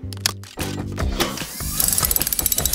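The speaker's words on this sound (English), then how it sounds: "To untangle Helena's rotor blades, we have to unbolt them." In a cartoon garage, a wrench unbolts a helicopter's rotor blades, giving a rapid series of ratcheting clicks that grows louder toward the end, mixed with background music and mechanical effects.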